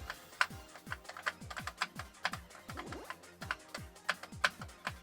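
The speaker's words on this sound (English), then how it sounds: "These arrow keys are just like so clicky. You can just hear me just going, tapping them while I'm adjusting my speed." Clicky arrow keys on a Famicom keyboard are tapped in quick, irregular bursts during PC gameplay, each keystroke crisp and close, with faint game sounds underneath.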